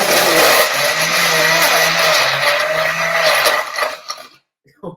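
A blender whirs loudly and close while mixing a smoothie, its motor droning with shifting pitch for about four seconds before cutting off, followed by a few faint clicks and a voice.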